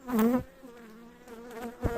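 Honey bees buzz around an open hive, a close, wavering drone that rises and fades in short passes.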